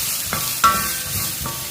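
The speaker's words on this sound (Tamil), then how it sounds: "இதை எல்லாத்தையும் நல்லா வதக்கிடுவோம்." Onions sautéing with turmeric and chili powder in a pan, giving a steady close sizzle with a few quick scrapes and clinks of a stirring spoon; no one speaks.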